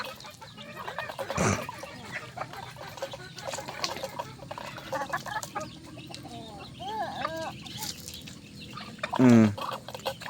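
Chickens on a farm cluck and call across the scene, with a few thin high peeps from chicks and a louder squawking burst near the end, the birds fairly close and unaccompanied by speech.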